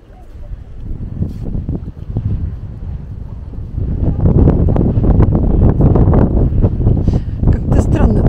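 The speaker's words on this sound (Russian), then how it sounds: "Как-то странно, то есть ветер, то нет." Wind buffets the microphone at Las Teresitas beach on Tenerife, coming in uneven gusts that start gentle and swell louder partway through, with scattered sounds and a voice mixed in.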